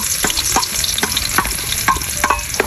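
Garlic sizzles in hot oil in a pan over a wood fire, a bright continuous crackle broken by regular metallic scrapes and taps from stirring, with no talking.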